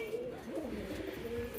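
Caged pigeons give low, rolling coos that rise and fall, close but soft against quiet background noise.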